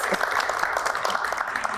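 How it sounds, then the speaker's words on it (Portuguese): Cultural journalism students clap together in an open class session, a quick, dense burst of applause close by and fairly loud, holding steady for under two seconds. "Palmas para os meus alunos queridos."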